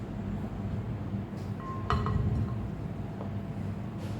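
Butter and sugar are creamed in a bowl for an eggless chocolate brownie, with a steady close scraping texture broken by a few light clinks of the utensil against the bowl.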